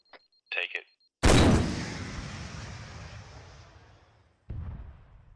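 In the video game Arma 3, a weapon shot strikes a BMP vehicle with a single loud, sharp blast that decays over about three seconds, then a second lower boom follows. Brief radio-style voice chatter comes just before the blast.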